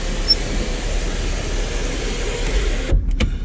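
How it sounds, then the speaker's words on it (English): Electric car sunroof motor sliding the glass panel open, a steady whirring hum that runs evenly, close and alone, before cutting off sharply near the end with a short clunk. "you've got the moonroof, sunroof here, so you can just push back here"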